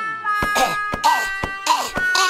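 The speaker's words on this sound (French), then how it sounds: "il tousse. Il tousse pas mal." A cartoon character coughing hard, with a rapid run of harsh coughs in a cluster, loud and close, mixed with cartoon sound effects.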